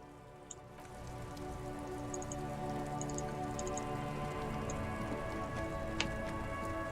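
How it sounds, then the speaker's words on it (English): Steady rain falls in Disco Elysium, a continuous close patter of drops with a few sharper ticks and drips scattered through it, with no voices. "This rain will not let up anytime soon."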